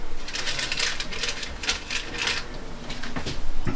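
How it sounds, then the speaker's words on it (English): A knife cuts through air fryer chili rolls on a board, giving a close series of crisp, rapid cutting and crunching strokes with no pauses and no talking. "Now let's cut these and place them in the air fryer."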